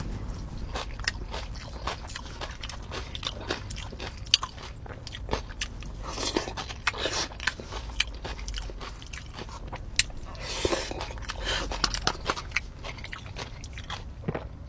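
Close, crisp crunching and biting of a fresh carrot coleslaw salad, steady bites and chewing repeating for the full stretch with no talking.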